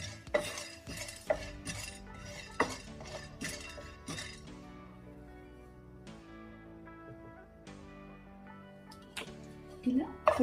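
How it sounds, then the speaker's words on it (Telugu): Melon seeds being dry-roasted in a pan, with irregular metallic clinks and scrapes of a utensil stirring against the pan, close and fairly loud. Several sharper knocks stand out against a quieter background, and no one speaks. "ఇప్పుడు ఒక ప్యాన్ పెట్టుకొని ఇందులో మిలాన్ సీడ్స్ వేసుకోవాలండి. మిలాన్ సీడ్స్ వేసేసుకొని దూరగా వేయించుకోవాలి."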